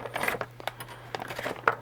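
Small hard plastic sewing machine bobbins clicking and clattering as they are handled, several sharp taps over a steady low hum.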